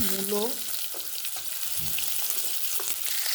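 Potatoes frying and being stirred in a pan with spiced oil, a continuous sizzling hiss with light scraping of the utensil, after a brief voice at the start.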